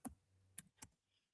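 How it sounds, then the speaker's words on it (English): Three crisp clicks on a computer keyboard, spaced unevenly, close and quiet against near silence. "Just typing back."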